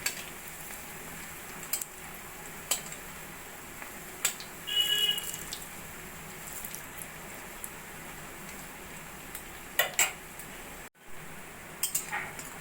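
Fish roe pakoras fry in hot oil in a pan with a steady low sizzle, punctuated by a few sharp clicks and scrapes as the pieces are turned.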